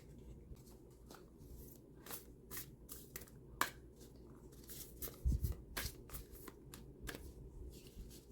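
Moonology Oracle deck cards being shuffled by hand, a run of soft, quick riffling flutters and slaps repeating alone with no talk.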